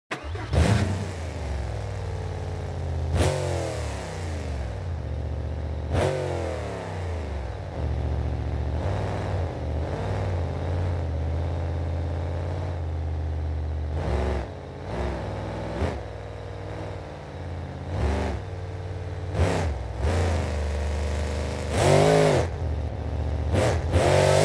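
A Mohawk Warrior monster truck engine in the video game BeamNG.drive roaring and revving repeatedly, with sharp throttle bursts and falling pitch between runs, loud and continuous.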